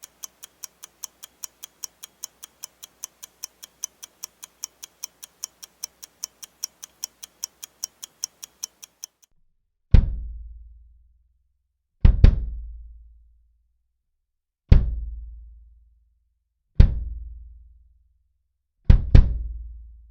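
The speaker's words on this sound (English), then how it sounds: "grab the pink blanket that we were using earlier, stuff it back inside the kick drum with all the other stuff" A kick drum stuffed with a pink blanket and other damping material gives five deep, short-decaying thuds spaced about two seconds apart, following a steady run of quick, even clicks.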